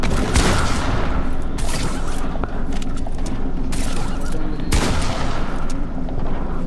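Real guns fire in Fortnite: a dense run of close, loud gunshots and booming bursts cracks repeatedly over a constant backdrop of game noise.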